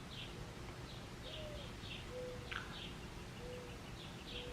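Birds calling outdoors in a garden around sunset, with soft repeated chirps and a few brief cooing or whistled notes spread through steady background noise, fairly faint and distant.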